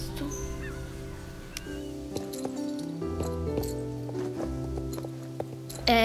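Horses in a stable in the video game Star Stable Online, with soft hoof clip-clops, snorts and ambient stable chatter over layered game music, moderately loud throughout, with no talking.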